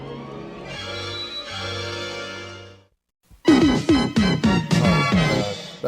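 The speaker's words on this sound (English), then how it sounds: "Another unmistakable song from The Real Ghostbusters." Theme music from The Real Ghostbusters cartoon opens with a slow, eerie sustained swell. After a brief silence, a loud punchy section follows with rhythmic stabs and driving accents.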